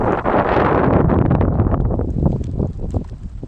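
Strong wind and choppy waves on the bank of the Shitalakshya river at a ghat roar continuously close to the microphone, with buffeting gusts and no voices.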